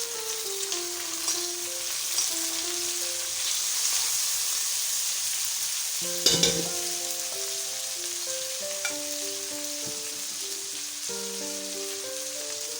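Ginger, garlic and a small tomato fry in a pan for shrimp and vegetable biryani, giving a steady close sizzle with one sharp stirring clatter midway, all under a light music track.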